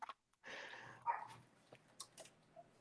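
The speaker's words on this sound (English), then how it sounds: "What is my crazy dog barking about now?" A dog barks a few times indoors, short faint yelps at a distance, in a quiet room.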